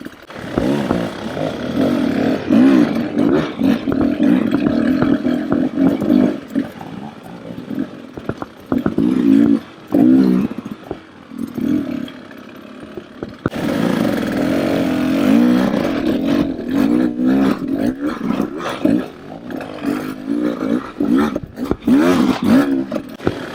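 A 2024 Beta 300RR Race Edition dirt bike engine revs and roars up close, rising and falling with throttle changes, briefly dipping before growling louder again.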